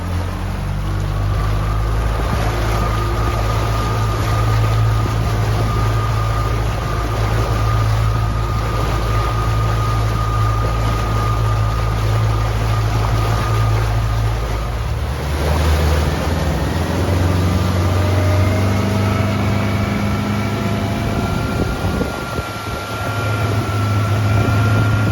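A Mercury 150 horsepower outboard motor from 2021 running during its break-in hours, a steady loud low engine drone with water wash, shifting pitch briefly partway through and then settling again.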